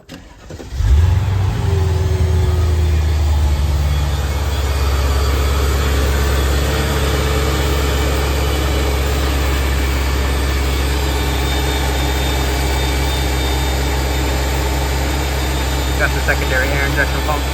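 A Mercedes CL55 with the supercharged M113k engine cranks and fires, then settles into a steady, loud idle that holds unchanged for over fifteen seconds.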